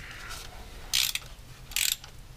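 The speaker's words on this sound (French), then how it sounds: "Petit coup de serrage sur les bougies." Ratchet wrench tightening spark plugs on an Audi TT MK1 engine, two short bursts of rapid clicking close by, separated by a brief pause, no voices.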